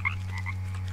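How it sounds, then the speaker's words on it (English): A frog in the jungle survival game Green Hell gives a short burst of croaks, two or three quick close calls over a steady low hum, with no talking. "I think I just squished a frog. It's a frog over there."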